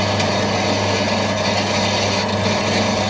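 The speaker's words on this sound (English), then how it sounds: "We're now cutting our seamless tubing to size." Seamless steel tubing being cut to size in a restoration workshop, a steady, loud, continuous grinding rasp with no pauses and no talk.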